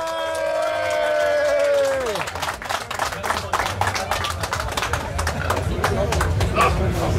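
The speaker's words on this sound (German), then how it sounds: "bitte jetzt die Erwachsenen einen riesen Applaus für die Griller" Dense crowd applause for the grill cooks breaks out at an outdoor barbecue gathering, following a sliding drawn-out tone, with voices mixed into the clapping.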